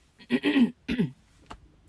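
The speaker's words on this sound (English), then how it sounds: "I had a big cough" A few harsh, throaty coughs close by, two longer bursts followed by a shorter one, then quiet.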